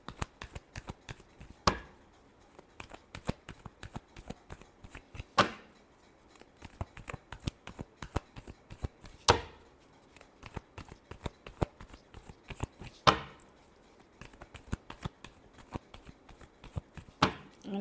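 Tarot cards being shuffled by hand in a quiet room: a steady run of soft riffles and slaps, with a sharper burst of cards snapping together every few seconds, close and fairly faint, no talking.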